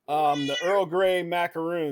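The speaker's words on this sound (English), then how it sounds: "the cat wants attention" A house cat meows in several drawn-out, rising and falling cries, close and loud, overlapping a person talking.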